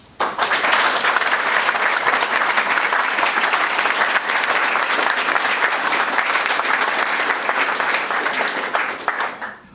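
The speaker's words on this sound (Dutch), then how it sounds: "Geeft u ze een warm applaus." Warm applause from an audience honouring the Augustinian Sisters of Saint Monica, a dense, steady clapping that fills the whole stretch at full strength before tapering off at the very end.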